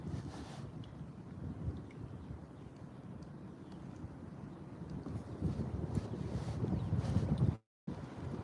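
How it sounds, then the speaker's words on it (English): Wind blowing steadily while kayak fishing on open water, a low continuous rumble and buffeting against the microphone, growing stronger toward the end. "The wind's picking up now."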